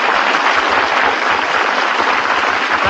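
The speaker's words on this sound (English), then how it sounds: "he's really eating it by the applause of this studio audience." Studio audience at a 1939 celebrity radio program breaks into sustained, loud applause, a dense even wash of clapping with no voices over it.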